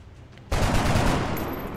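A sudden burst of heavy gunfire in XCOM: Enemy Within erupts after a quiet moment, a dense rattling barrage that continues loudly to the end.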